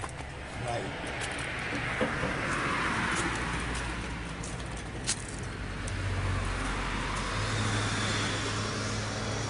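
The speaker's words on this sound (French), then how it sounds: "Un engin agricole." An agricultural vehicle passes along a road in Japan, a steady low engine rumble holding close by for several seconds, with faint birdsong and scattered background noises around it.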